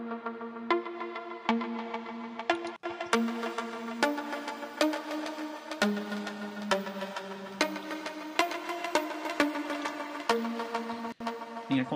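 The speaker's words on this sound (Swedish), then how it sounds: "låter två olika syntar spela samma sak och tillsammans då bildar ett speciellt ljud" Two layered synthesizers play the same notes with the same filter, giving a bright, thick combined tone as a steady series of rhythmic chords and notes within an electronic music arrangement.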